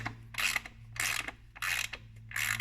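Ratchet clicking as a differential fill plug in an aluminum housing is snugged back up, four bursts of close, crisp ratcheting separated by short pauses over a steady low hum.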